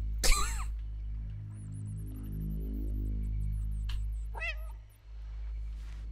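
Cat meows from the video game Stray, a few short clear calls near the start and middle over a steady low game-ambience hum, with no talking.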